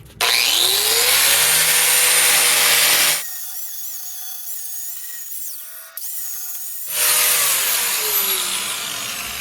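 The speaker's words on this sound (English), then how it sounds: "take the angle grinder and clean up these inside edges" An angle grinder works the inside edges of a track, a loud harsh continuous grind that stops for a few seconds of quieter hum in the middle and then starts again, close and with no speech.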